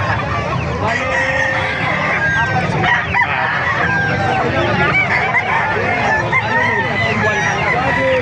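Roosters, including Labuyo birds, crow and cluck densely at a chicken market in Calumpit, Bulacan, many calls overlapping near and far amid a busy crowd with people talking.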